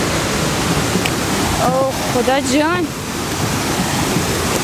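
A waterfall roars as a loud, steady rush of falling water, and someone speaks briefly over it partway through.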